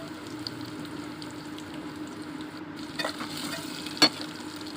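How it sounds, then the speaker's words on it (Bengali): Chopped onions sizzle in hot oil in a pan while being stirred, giving a steady low hiss with a few soft scrapes and one sharp clink near the end, close and without talking. "পেঁয়াজটাকে ভালোভাবে নাড়াচাড়া করে একটু ভাজিয়ে নিই।"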